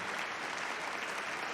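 A crowd in a TV show applauds a character with steady, dense clapping that fills the whole moment at close, even volume.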